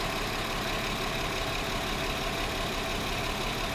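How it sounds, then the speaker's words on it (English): A 2009 Volkswagen Touareg 3.6L engine with a lean condition idles steadily, a constant low rumble with a slight rhythmic pulse and no voices. "we're gonna listen to the engine"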